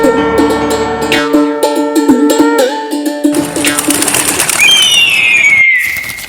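Cartoon bird calling in a bright, tonal animated voice, a series of sustained warbling notes followed by rising and sliding whistles, loud and close with a musical backing.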